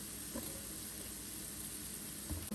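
Slit green chillies and curry leaves sauté in a pan, a faint, steady sizzle with a few soft stirring scrapes and no talking.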